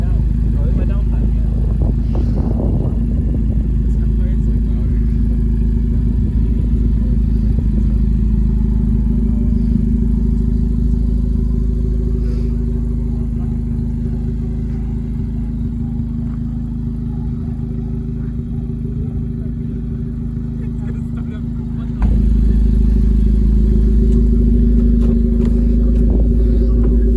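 Honda Civic Type R FK8 and Civic Si FC1 exhaust with an open front pipe, a loud, steady low rumbling drone at idle or cruise with some clatter, brief revving, and people talking over it.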